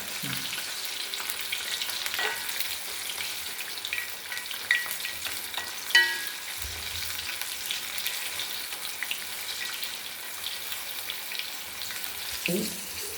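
Sweet jackfruit boli frying in hot oil gives a steady, close crackling sizzle, with a few soft clinks and stirring sounds along the way.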